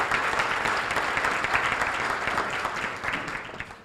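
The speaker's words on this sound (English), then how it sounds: "A round of applause to the Fremont Hills Country Club." A room of attendees applauds at a State of the Cities event, thanking a country club: dense, sustained clapping that holds steady, then thins and fades toward the end.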